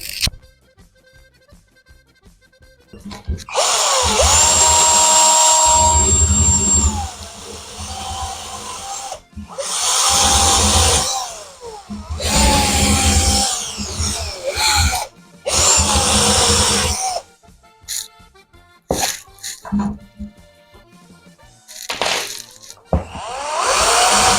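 Loud bursts of a high-pitched power drill whirring, several on-and-off runs of a few seconds each, close by, with short quiet gaps between, during bathroom door replacement.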